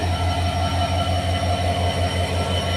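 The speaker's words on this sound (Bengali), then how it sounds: "দেখেন এত বড় ট্রেন একজন ড্রাইভারে চালিয়ে যাচ্ছে তো যাচ্ছে" A long train rolls through Joypurhat railway station, a steady loud rumble with a regular rhythmic pulse of wheels over rail joints, continuous and close throughout.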